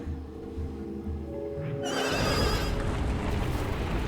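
A horse in a horror video game lets out a loud, shrill neigh that swells into a sustained whinny with hoof clatter, following a low droning musical background.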